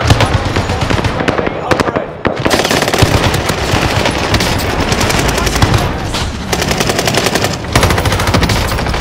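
Call of Duty Warzone on PC, an M1918A2 BAR and an M1944 Hyder carbine firing: nearly continuous heavy automatic gunfire, loud and close, with only a couple of brief breaks and game voices mixed in.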